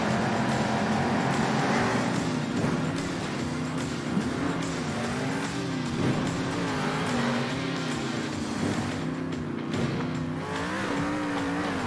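Monster truck engine in Monster Jam Steel Titans drifting around a corner: a steady loud engine drone with wavering pitch as the truck slides, sustained throughout with faint tire noise.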